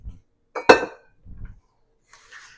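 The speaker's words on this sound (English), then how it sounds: "we've taken some of the Southern fine china and put a little flour in the bottom of the plate and just dump that dough right there" Bread dough lands on a floured Southern fine china plate with one sharp, close clattering knock, followed by a few softer dull bumps and a faint scrape.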